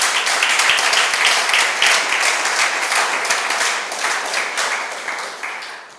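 A church congregation applauds together in a sustained burst of dense clapping that fills the room, steady and loud before tapering off slightly at the end.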